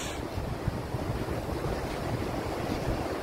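Sea waves wash steadily on a beach, a continuous low rumbling surf mixed with wind buffeting the microphone, with no one speaking.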